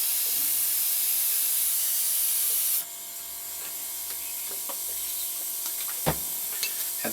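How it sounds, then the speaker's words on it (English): An airbrush gun sprays out cleaning water after skin-tone paint: a steady, close, loud airy hiss runs for about three seconds, then drops to a softer, continuing hiss with a few faint clicks. "Now just clean the airbrush a bit."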